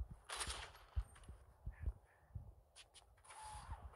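Several sniper rifle shots sound off in Gangstar Vegas, aimed at a bulletproof truck: quiet, spaced booms with hissing bursts between them, set against a faint background.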